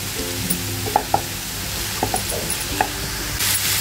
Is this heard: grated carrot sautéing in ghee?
yes